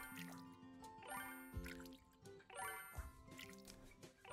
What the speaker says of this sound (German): So, dann kurz gießen.